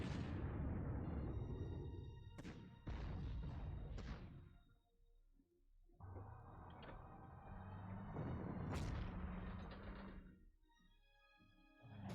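Bombs striking a KV-1C tank in the strategy game Panzer Corps: several loud, sharp blasts with thudding impacts in irregular succession, some close together, with a short quiet gap between bursts.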